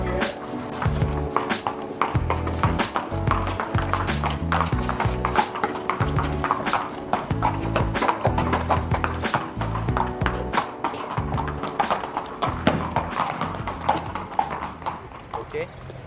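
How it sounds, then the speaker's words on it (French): Hooves of a Shetland pony and racehorses clip-clopping out of a stable, a steady rhythmic clatter of shod feet on hard ground, close and clear, with people talking throughout. "Un Shetland, des chevaux de course."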